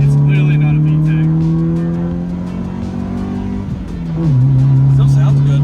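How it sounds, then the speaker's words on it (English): A deep-toned four-cylinder car engine drones steadily while driving, loud and close from inside the cabin, with the pitch dipping and then climbing again as the car slows and accelerates. A voice speaks over it. "I've always liked the deeper toned 4 cylinders anyway, and this is really deep."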